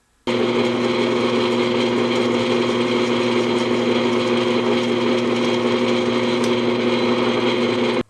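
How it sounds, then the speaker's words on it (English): A drill press boring 3/8 inch through holes in center-punched discs runs as a loud, steady motor whine with strong harmonic hum, continuous for about eight seconds after a brief silent start, with no talk. "we're going to drill a 3/8 diameter through hole in each one of them."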